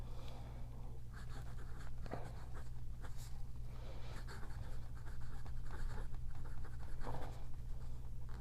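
A Cross Apogee fountain pen with an 18K gold, rhodium-plated nib glides across ruled paper, giving a faint, steady scratch with light strokes, nearly buried under a constant low hum.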